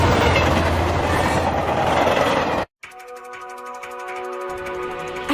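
A train rolls along rails in an anime, a loud dense rumble breaking off suddenly before a steadier, rhythmic clatter of wheels with a thin tonal whine returns.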